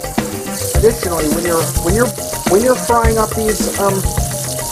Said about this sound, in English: when you're frying these meatballs, you gotta make sure that they are thoroughly well cooked throughout